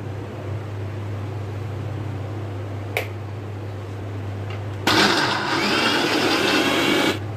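A mixer grinder grinding chutney with curd whirs loudly in a steady burst for a couple of seconds after a constant low motor hum and a brief click.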